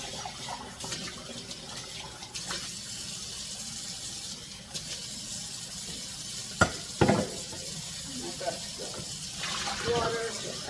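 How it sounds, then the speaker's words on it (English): Water running from a kitchen tap into a sink while a coffee mug is rinsed out, a steady soft splashing rush broken by a few sharp clinks and knocks of the mug. "So I gotta wash out my coffee mug."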